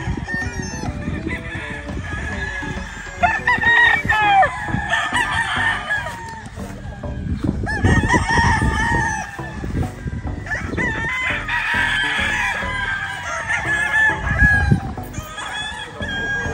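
Several game roosters crow one after another at Tipolo Point Game Farm, loud and close, with clucking between the calls and no talk.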